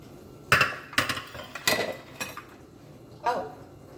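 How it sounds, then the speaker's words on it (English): Keto donut batter spooned into a donut pan, giving four separate clanks and scrapes of utensil against metal at uneven intervals, fairly close and distinct with brief quiet between them. "And then we're going to put this in our donut pan."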